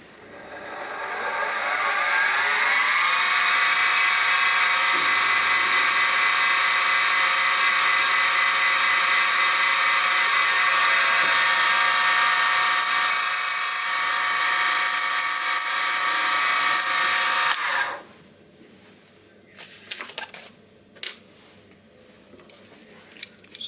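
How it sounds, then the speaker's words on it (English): A 3mm drill bit bores into metal on a milling machine while making a Stuart 10V steam engine valve rod, a loud steady high whine held for about fifteen seconds, then stopping and leaving faint clicks and handling noise. "when I drill with this 3mm drill bit, that should define the end point."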